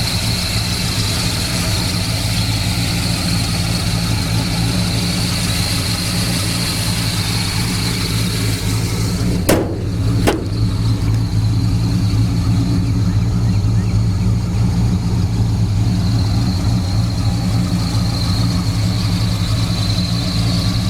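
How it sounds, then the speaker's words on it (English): The V8 engine of a 1972 Pontiac GTO Judge idles steadily with a low, even rumble, close and continuous, with a brief sharp squeak around the middle. "Engine compartment looks good and the motor runs excellent."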